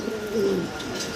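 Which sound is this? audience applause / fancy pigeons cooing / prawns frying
fancy pigeons cooing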